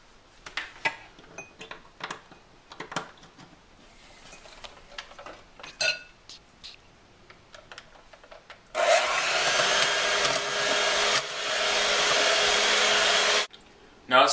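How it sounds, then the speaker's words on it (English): A hand mixer whips heavy whipping cream for chocolate mousse: after quiet clinks and kitchen handling, a loud, steady motor whir starts, runs about five seconds with a brief change in pitch, then stops. "you have to mix it well with your hand mixer"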